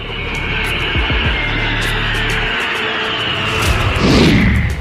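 A loud, continuous military jet roar fills the air during an Indian Air Force exercise, swelling and sweeping past overhead toward the end with a rushing whoosh.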